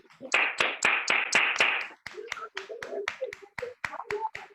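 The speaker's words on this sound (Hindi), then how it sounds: "तो एक बार शानदार ताली चाहूंगा" An audience at an indoor business plan meeting claps for a guest speaker, a string of distinct hand claps, dense and brisk at first, then sparser and more spaced, close and fairly loud.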